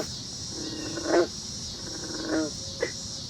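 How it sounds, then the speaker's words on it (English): Frogs croak from a creek at night, giving a few separate low throaty calls over a steady insect hum, moderately near. "The frogs down in this creek."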